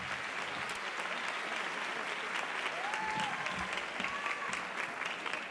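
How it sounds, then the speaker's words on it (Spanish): Audience applause at a televised awards ceremony, a full hall clapping loudly and continuously, dense and even, with faint cheering mixed in. "Un fuerte aplauso para ella."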